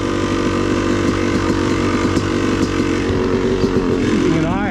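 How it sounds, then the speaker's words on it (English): A Yamaha YZ dirt bike cruises a forest trail in a fairly high gear with a loud, continuous engine buzz that rises and falls slightly under the throttle. A voice speaks briefly toward the end. "leave you for a little while with just the sound of my YZ in a fairly high gear, kind of cruising a really fun trail"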